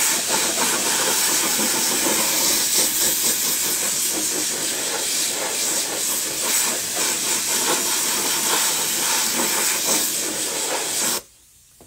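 Spray adhesive hisses steadily and loudly from a spray gun onto carpet covering the rear package tray of an Infiniti G37 Coupe, a continuous close blast that stops abruptly near the end.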